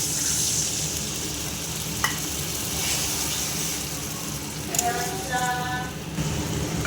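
Water poured into a pan of sizzling, oil-releasing fried spice paste for Bengali egg curry, a steady close frying hiss with stirring and brief clatters, no talk.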